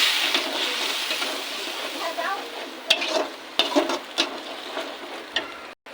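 A paste of ginger, tomato and green chili goes into hot oil tempered with nigella seeds and fries, a wet sizzling hiss with several sharp spatula clacks and stirring scrapes, near and steady, ending abruptly.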